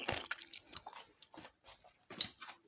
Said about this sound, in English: Right here, that crunch.